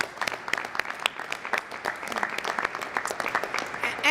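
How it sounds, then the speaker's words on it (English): Steady applause from a crowd, many hands clapping in a dense, continuous patter that holds at an even level throughout. "we should all give a round of applause to Congressman McGovern as well."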